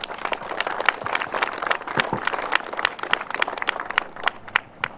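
Applause from an audience at a road ribbon-cutting ceremony, thanking the construction crew: a steady spread of dense hand claps with a few sharper individual claps standing out near the end as it thins.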